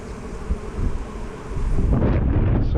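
A dense, steady buzzing of many honey bees close by at an open farm hive during an inspection, continuous throughout and growing a little louder toward the end, with some wind rumble underneath.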